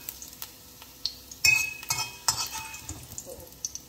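Mutton brain fry being stirred in hot oil in a pan, with a steady sizzle under a run of scraping strokes and light metallic clinks of a spoon against the pan, close up with no talking.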